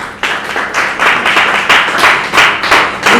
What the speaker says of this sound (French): Vous pouvez vous applaudir s'il vous plaît.